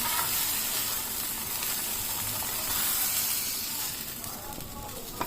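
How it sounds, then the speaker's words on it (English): Bombay duck (bombil) fish frying in a pan of hot oil, a continuous loud hiss and sizzle that holds steady for about five seconds and eases slightly near the end. "Fry it nicely on both the sides."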